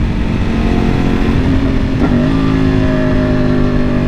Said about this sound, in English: if you listen to this bike sound, it sounds amazing